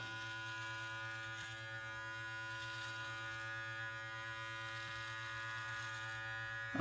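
Electric beard trimmer set to a 3 millimeter guard running steadily through a beard, a constant faint buzzing hum with no talk over it.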